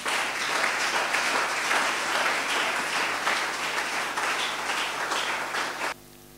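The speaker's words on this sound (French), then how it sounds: "On peut acclamer pour la parole." Sustained applause from a church audience at a sermon on the millennium, steady, dense clapping filling the room for about six seconds before cutting off abruptly near the end.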